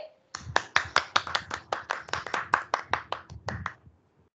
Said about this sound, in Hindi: तो जोरदार तालियां हो जाए एक बार फिर